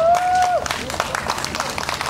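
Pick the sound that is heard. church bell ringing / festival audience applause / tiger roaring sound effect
festival audience applause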